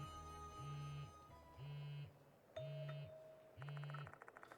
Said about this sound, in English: The sound of a phone vibrating echoes in the room.